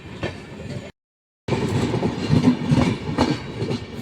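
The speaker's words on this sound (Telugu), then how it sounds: "ట్రైన్ చాలా పెద్దగా ఉంది, అప్పటి నుంచి వస్తూనే" A long train rolling past in India, a loud close rumble with rhythmic clickety-clack of wheels on the rails, broken by a brief silent gap.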